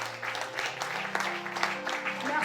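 A church congregation at an evangelical consecration service applauds steadily for a couple of seconds. The clapping is a broad, moderately loud patter, with sustained musical tones held underneath it.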